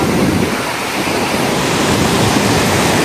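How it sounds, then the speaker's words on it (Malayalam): Surf rolls onto a Chennai beach as a loud, steady wash of broadband noise with some wind buffeting, continuous and without talking. "ഇതാണ് കേട്ടോ നമ്മുടെ ബീച്ച്"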